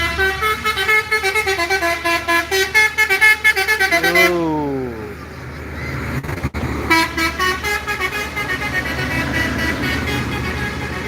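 A bus telolet horn plays a rapid melodic sequence of tooting notes, pauses for a descending glide and a brief near-silence, then resumes its repeating musical honks, loud and close.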